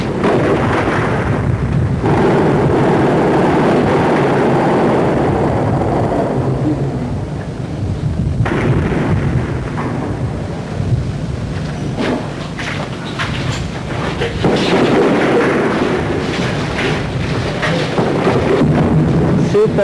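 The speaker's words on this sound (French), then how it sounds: "C'est un obus de 240 mm, un obus qui est en train d'être utilisé pour la première fois" Heavy 240 mm artillery shells explode during wartime fighting in Achrafiyeh, producing a continuous deep rumbling roar with swelling booms and wind buffeting the microphone throughout.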